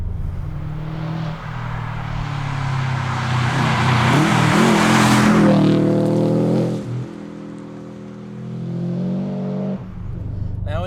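A Subaru Impreza WRX engine pulls hard on narrow back roads, revving up strongly from mid-range with rising engine tone, easing off, then building again, heard from inside the car with a voice talking over it.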